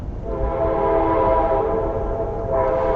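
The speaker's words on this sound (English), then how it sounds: "Isn't that train nice? We get like 5 of those an hour" A train passes outside and sounds a sustained horn chord over a low rumble of rolling wheels, loud and steady, with no talking.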